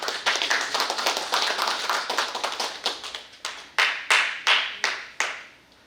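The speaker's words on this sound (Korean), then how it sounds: "심찬 박수로 김갑수님 모시겠습니다" An audience at a book launch gathering claps to welcome a speaker, a lively burst of many hands that thins toward the end into a few scattered, distinct claps.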